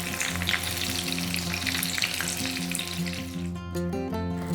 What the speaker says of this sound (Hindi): ये देखिए स्प्रिंग रोल्स बिल्कुल फ्राई हो गए हैं, गोल्डन ब्राउन कलर के हो गए हैं।